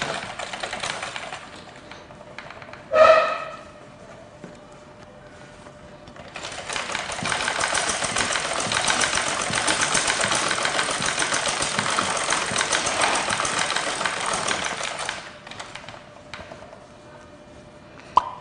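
A sewing machine stitches the edge of a rope half an inch in, with a short start around the third second, then a long steady whirring run of about eight seconds before it stops, close and alone.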